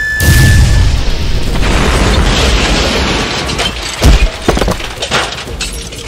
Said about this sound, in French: Je commence à en avoir assez de ces explosions impromptues.